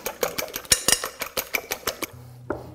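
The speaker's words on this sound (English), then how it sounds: "So we're just gonna beat these almost like you're beating an omelet." Eggs being beaten in a bowl for blueberry lemon muffin batter, a fork or whisk tapping the bowl in a quick steady rhythm of about a dozen clinks, close and fairly loud, ending with a short low hum.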